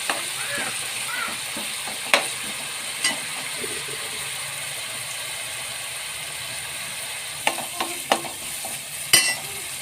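Natukodi chicken curry frying in oil: a steady hiss of sizzling runs throughout while a spoon scrapes and clacks against the pan in occasional stirring strokes, near and clear.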